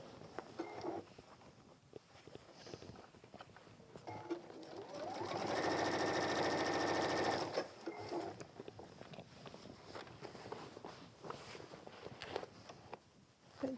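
A sewing machine stitches a messenger bag in one close, steady whirring run of about two seconds, set between quieter handling noises and faint rustling at a workshop bench.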